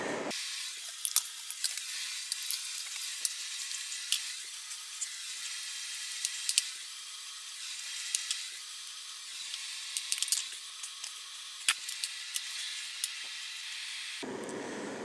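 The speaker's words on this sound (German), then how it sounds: "Das Nudelwasser kocht." Pasta water boils in a pot for whole-grain spaghetti bolognese, a steady, fairly faint hissing rush with small scattered pops. It runs alone and then cuts off abruptly at the end.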